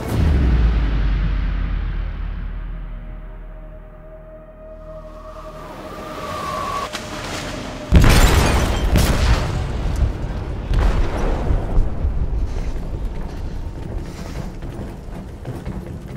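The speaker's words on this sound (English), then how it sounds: "They detonated an explosive in the hold" In Detroit: Become Human, an explosive goes off in a ship's hold with a sudden heavy boom, followed by a long, rumbling roar of fire and debris and scattered crashes as the ship sinks.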